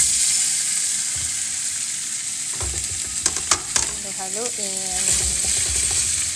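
Garlic and sausage sizzle and crackle in hot oil in a pan, with stirring scrapes and clinks over a steady frying hiss; a brief voice is heard.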